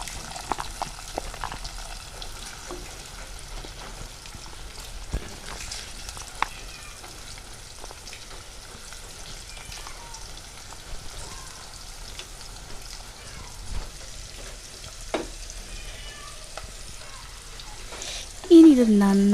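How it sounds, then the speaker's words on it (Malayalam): Shallots, green chili, garlic, ginger and curry leaves fry in a pan with a steady close sizzle and crackle, broken by occasional stirring clinks, ending in a brief louder scrape. "ഇനി ഇത് നന്നായിട്ടൊന്ന് മൂപ്പിച്ചെടുക്കാം."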